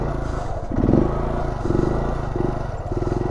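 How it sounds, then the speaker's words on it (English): Honda Grom motorcycle engine near a stunt lot, running with a rough pulsing note that swells briefly and then sags unevenly as it nearly dies under hard braking. "You heard the engine just kind of die out."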